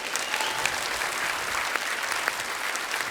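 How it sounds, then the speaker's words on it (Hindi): A comedy show audience gives loud, enthusiastic applause for guests Brett Lee and Chris Gayle, dense steady clapping filling the room for a few seconds with no pauses. "एक बार जोरदार तालियां हमारे मेहमानों के लिए"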